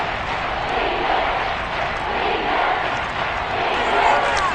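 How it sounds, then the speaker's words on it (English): A football stadium crowd roars steadily ahead of a big third down, a dense, loud, sustained wall of cheering that swells slightly toward the end. "The crowd getting into it as we come up on a big third down."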